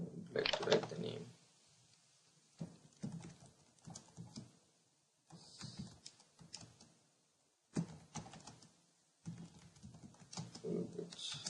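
Typing on a computer keyboard while entering block names for a single-phase full bridge rectifier model in MATLAB, heard as bursts of quick, close clicks separated by short pauses.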